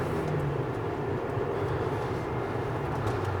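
A Volvo C70 engine hums low and steady from inside the car while driving, a constant drone with no voices.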